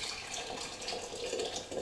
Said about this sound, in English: you're going to put about a cupful of boiled water in there